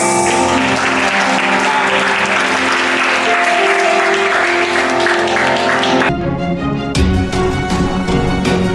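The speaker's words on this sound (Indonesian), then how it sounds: "Berikan tepuk tangan sekali lagi, sorak-sorai bagi Tuhan" A church congregation at a Sunday worship service at GBI Gideon breaks into loud, sustained applause and cheering, with dense clapping throughout, shifting partway through to a more rhythmic, accented clapping pattern.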